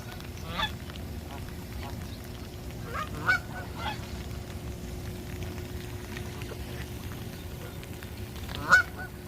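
Geese honking at a park pond in Woodstock, Ontario, a few scattered calls over steady low background rumble, with two louder, nearer honks standing out near the start and again near the end.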